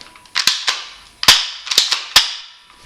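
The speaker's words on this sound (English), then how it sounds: "that is the Mossberg Combat 45 spring pistol" A Mossberg Combat 45 spring airsoft pistol fires about six sharp, snappy cracks at irregular intervals. The shots are close and loud, with no talking.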